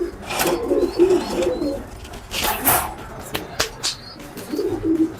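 Pigeons in a loft coo in soft, low bursts, close by, with brief fluttering and shuffling noises between the calls and someone speaking quietly at times.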